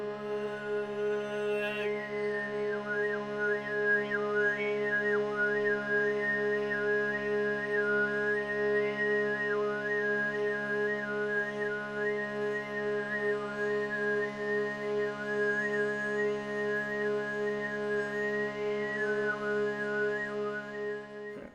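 A steady droning throat-sung tone in the Tuvan sygyt style, with a high, whistle-like overtone melody wavering above it, sustained and close for over twenty seconds.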